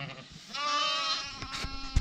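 Sheep bleating during a move into new pasture alongside chicken tractors on a farm, a wavering, harmonic-rich cry lasting over a second, close and loud, with a few brief thumps and shuffles near the end.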